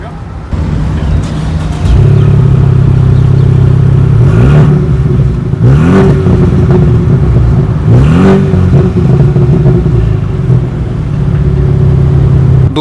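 A Ford Mustang convertible's engine revs close to the microphone, a steady loud idle rising into three sharp revs in a row before settling back to idle.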